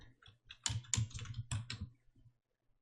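Keys clicking on a computer keyboard as text is entered into a slide for an ITQ PowerPoint certification exercise, a short burst of close, quick keystrokes in an irregular rhythm, alone.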